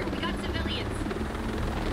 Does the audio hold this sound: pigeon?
no